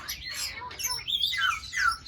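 Caged birds chirping nearby, a quick run of bright, high tweets and short rising and falling calls that come in a few bursts over a quiet background.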